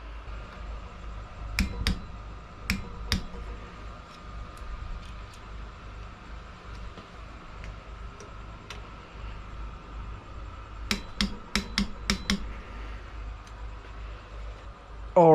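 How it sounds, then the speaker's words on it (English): A wrench tightens bolts to 17 foot-pounds on a Monster Moto minibike, giving sharp metallic clicks in two brief clusters, a few early and a quicker run later, over quiet room noise. "I'm going to go ahead and torque all these down to 204 inch-pounds or 17 foot-pounds."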